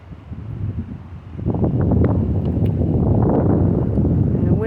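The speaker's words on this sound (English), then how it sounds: "Wind is picking up," Strong wind roars and buffets the microphone as a thunderstorm approaches, swelling from a moderate gust to a sustained loud rush partway through, with nobody speaking.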